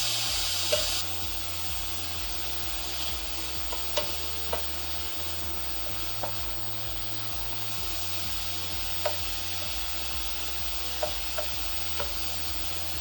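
Chicken pieces frying in a pan before a butter and flour cream sauce, a continuous close sizzle with occasional sharp ticks and pops from the spatting fat, no voices.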